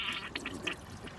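A Tofino toilet flushing, a faint, short rush of water with a few gurgling bursts as the bowl siphons down.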